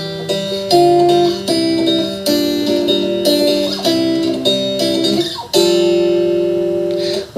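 Solo acoustic guitar plays the fingerpicked third section of a song, a clear, close melodic line over ringing bass notes with a steady rhythm throughout and no talking.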